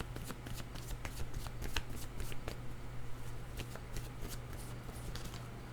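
Playing cards riffle-shuffled repeatedly at close range, with a steady low hum underneath and brisk crackling bursts throughout.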